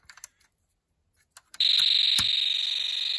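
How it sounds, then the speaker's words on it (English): A Snap Circuits electronic kit plays its Space War sound effect: after a few faint clicks, a loud, harsh electronic buzzing tone starts suddenly and pulses rapidly and continuously. "Space War sounds will be heard and that player will get a hit"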